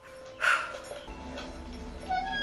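A faint whimpering whine from a Golden Retriever in a horror movie scene, heard a little distant with a brief higher yelp near the start and quieter whines that follow.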